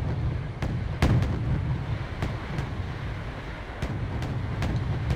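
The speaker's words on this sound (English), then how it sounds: "now we are watching the IKV amos twin mortars destroying the helicopters" IKV Amos twin mortars firing in the strategy game Wargame Red Dragon, a steady stream of sharp, rapid booms at irregular intervals over a constant low roar of battle noise.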